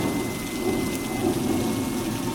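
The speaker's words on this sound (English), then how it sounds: "Looks like it's fixing to rain." Steady rain and thunder from a 1946 horror radio drama sound effect, a dense continuous roar of downpour with low rumbling, fairly loud and unbroken with no voices.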